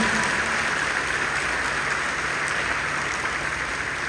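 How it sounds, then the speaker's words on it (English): An audience at a school opening ceremony gives a round of applause, a dense, even patter of clapping that holds steady throughout at moderate level. "We'll give you another round of applause for the Wwms."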